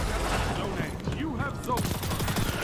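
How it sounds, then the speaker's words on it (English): Rapid automatic gunfire in Destiny 2, a dense sustained burst of shots with a voice talking over it. "So we're gonna gun him down."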